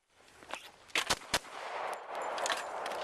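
AK rifle rounds fired into a cardboard box target at an outdoor range, a few sharp separate cracks followed by a steady rustling wash of background noise.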